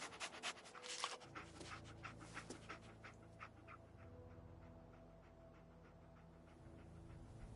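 The dog companion Dogmeat pants in the video game Fallout 4, a steady rhythmic breathing that runs for several seconds under a low game ambience hum.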